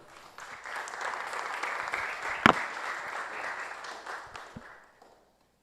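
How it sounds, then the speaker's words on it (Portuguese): An audience applauds to welcome a guest at a cultural event in Quixeramobim, a long sustained wash of many hands clapping that swells, holds, then fades out near the end, with one sharp close clap midway. "quero pedir que o nosso convidado venha e aplausos para ele"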